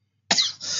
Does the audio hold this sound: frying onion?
no